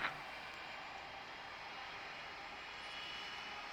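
KLM 787 Heavy airliner engine in the Tower Simulator game, a steady, moderate jet roar with broadband hiss that holds evenly throughout, after a brief soft bump at the start.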